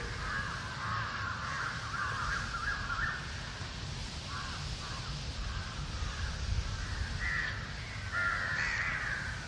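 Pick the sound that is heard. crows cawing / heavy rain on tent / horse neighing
crows cawing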